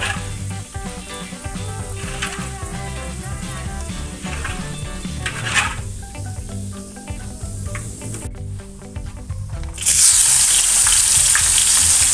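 Shallots fry in hot oil in a wok for Padang-style stir-fried tempeh, a steady crackling sizzle that swells louder and brighter toward the end as the shallots hit the oil, with no talking.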